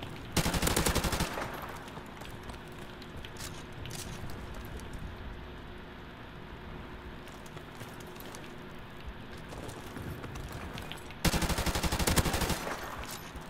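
Rapid automatic gunfire in Call of Duty, two loud bursts at the start and near the end with quieter scattered shots and game noise in between.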